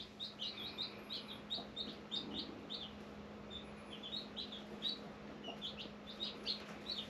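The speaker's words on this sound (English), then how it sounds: "how are they chirping?" Newly hatched chicks peep continuously in a rapid, high-pitched chorus over a low steady hum, with quiet indoor background noise and no talking.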